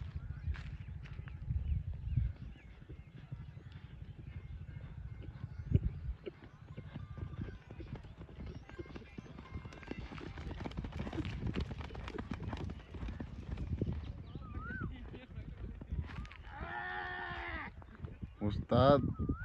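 Horse hooves clip-clop on a dirt riding ground built for exercising horses, a steady rhythmic patter running under continuous nearby talk, with a few sheep- or goat-like bleats toward the end.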